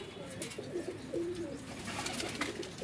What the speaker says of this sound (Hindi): अच्छा कबूतर है यार ये।